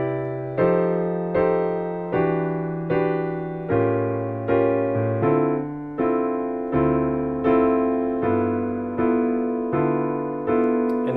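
Solo piano plays lush jazz chord substitutions with the left hand on steady half notes in a two feel, each chord struck cleanly and left to decay in an even, relaxed rhythm.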